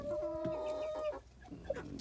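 Clucking from an ornamental rooster among a small flock, with a sustained tonal call followed by shorter clucks, close and fairly loud with no talking.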